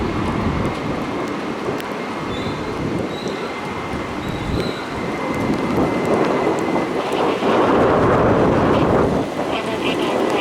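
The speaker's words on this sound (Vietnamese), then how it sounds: "Đây là cái quang cảnh mà chuẩn bị cơn mưa đang tiến tới đây." Steady rain pours over an airport as a thunderstorm moves in, a dense continuous wash of noise with low rumbling swells that grow louder toward the end.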